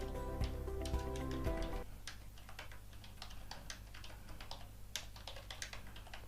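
Rapid irregular keystrokes tap on a computer keyboard as a full name is typed, a steady clatter of clicks close by, with a brief musical tone at the start.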